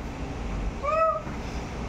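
A single drawn-out cat meow rises and falls once near the middle, moderately clear above a steady background hiss with no talking.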